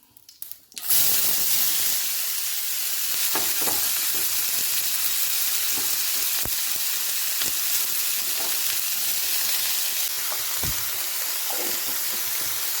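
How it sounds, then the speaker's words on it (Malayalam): Onions and tomatoes sauté in a pan for curry with a steady, loud sizzle and frying hiss that starts abruptly and continues throughout, broken by occasional soft stirring scrapes and taps. "മഞ്ഞൾപ്പൊടി, കുറച്ച് ഉപ്പ് ഇട്ട് കൊടുത്തിട്ട് ഇപ്പം നന്നായിട്ട് ഇതിന് വഴറ്റിക്കൊണ്ടിരിക്കണം"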